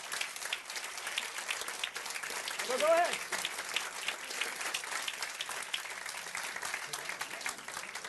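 An audience at a city State of the City event applauds public servants, steady moderate clapping throughout while a voice briefly speaks over it and another rises for a moment midway.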